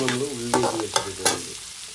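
Chopped onions dropping into a hot pan for a camel meat roast, scraped and stirred in a few short bursts with a steady sizzle underneath, close and fairly loud.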